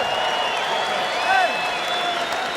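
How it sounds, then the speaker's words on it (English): Steady crowd applause and cheering fills an arena after a bare-knuckle fight, a continuous wash of clapping with a faint voice over the PA beneath it. "let's have a big round of applause for these two warriors"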